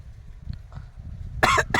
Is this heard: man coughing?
yes